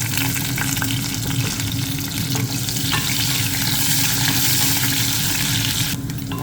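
Onions with garlic and curry leaves fry loudly in a pan for a Rajahmundry-style cabbage and black-eyed pea pulusu, a dense continuous close sizzle with a few stirring clinks, no voices.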